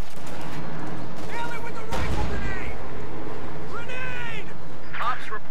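Rifle grenade blast and bursts of gunfire in Company of Heroes 2 on a Western Front battlefield, a sharp burst near the middle amid scattered shots, with voices and battlefield chatter over the top.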